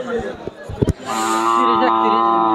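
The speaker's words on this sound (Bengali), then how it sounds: "আরো একটি হাড্ডিসার গরু দেখতে পাচ্ছি, একদম শুকনো কেরকারা গরুটি" An emaciated heifer at the Kaitla cattle market lets out a loud, drawn-out moo after a few short knocks and bumps, the call sustained and close.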